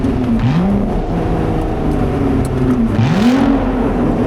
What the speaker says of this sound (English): Oh, over-revved it.